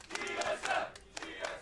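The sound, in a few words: esports crowd chanting during League of Legends match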